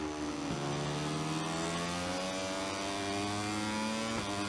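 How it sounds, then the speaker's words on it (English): A motorcycle engine in the racing game MotoGP 24 holds a steady high-revving whine with smooth pitch shifts and brief gear-change dips, sounding loud and close with no talk over it. "I can hear an engine behind me now."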